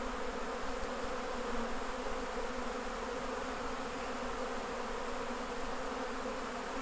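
Honey bees buzz in a dense, steady swarm around freshly harvested honey being fed back to them, a continuous close drone with no pauses.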